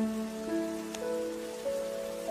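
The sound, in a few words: rain falling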